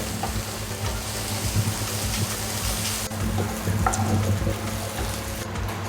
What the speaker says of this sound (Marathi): यामध्ये आता टोमॅटो टाकून घेऊ. हे आता चांगले व्यवस्थित भाजून घेऊ.